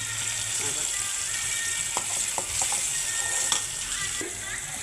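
Ground masala frying in hot oil for a palm shoot stew, a steady broadband sizzle close by with a few soft clicks of a spoon stirring through it.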